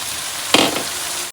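Onions, tomatoes and green chillies frying in a pan, a sudden loud sizzle bursting up as they hit the oil and then settling into a steady hiss.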